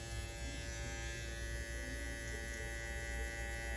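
An electric hair clipper buzzes in a steady, continuous hum while cutting hair for a shag style, faint and even throughout with no speech.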